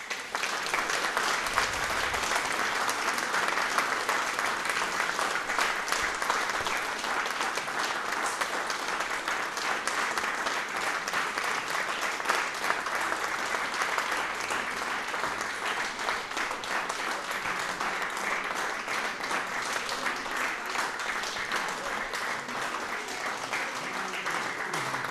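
An audience at a school Christmas concert applauds the teachers with sustained, dense clapping that stays loud and even throughout, no voices rising above it.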